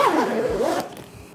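Zippers on a travel bag rasp quickly in a close, loud sweeping pull lasting under a second, then quieter handling follows.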